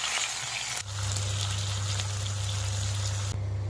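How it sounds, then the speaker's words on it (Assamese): Fish pieces fry in hot oil in a wok, a dense steady sizzle with a low hum underneath, broken by a short pause near the start and another near the end. "যিকণ গৰম হয় মই মাছকেইডোখৰ দি দিছোঁ।"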